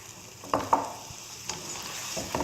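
Chopped tomatoes with boiled mutton cooking over a high flame for Punjabi mutton karahi, a low hiss under a few sharp scraping knocks of a spoon against the pot, fairly close and brief.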